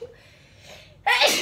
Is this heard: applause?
no